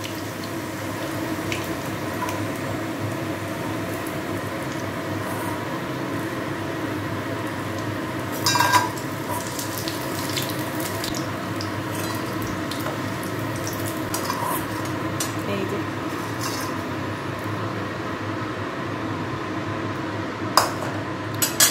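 Pieces of chicken frying over a high gas flame for dry chili chicken, a steady hiss of oil with a few faint clinks of utensils, no talking.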